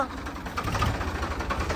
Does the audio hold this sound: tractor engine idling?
yes